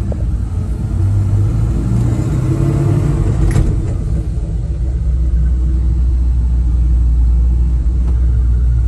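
A 1971 Chevrolet C10 custom 4x4 pickup with power steering drives along, its engine a loud, steady low rumble with road noise, holding an even pace throughout without voices.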